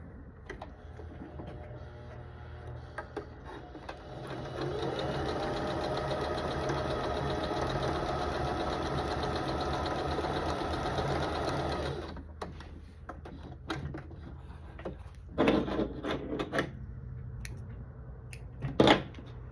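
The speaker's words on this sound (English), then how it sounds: "We'll sew it at a 1/4 inch." A sewing machine stitches quilt scraps together at a quarter-inch seam, running as a loud, steady whir for about seven seconds, then stopping. Quieter handling noises and light clicks follow.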